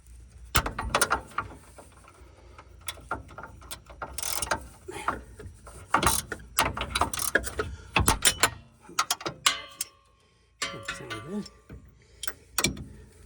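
A hand ratchet wrench with a 13 millimeter socket turns a bolt while replacing shocks on an El Camino, giving loud close clicking pawl bursts with irregular gaps and a slipping, grinding quality; someone speaks briefly at times.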